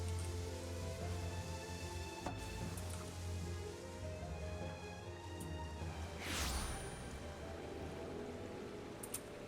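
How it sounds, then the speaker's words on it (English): Rain falls in the video game Final Fantasy XIV, a steady dense hiss of drops filling the whole stretch, with a few sharp clicks and one brief whooshing swell partway through. "It's raining."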